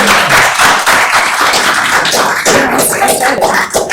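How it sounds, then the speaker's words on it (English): A small audience at an election candidates' forum applauds the candidates, close, loud, uneven hand claps with individual slaps standing out, continuing for a few seconds. "let's give a round of applause to all of our candidates"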